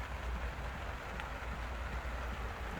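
Steady rain falls outdoors near an entrance, a dense, even hiss of drops on surfaces with no break and no talk.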